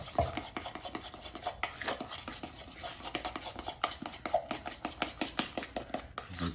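Cheesy keto hamburger bun dough being mixed in a bowl, a quick, irregular run of scraping, clacking and rubbing strokes with no voices.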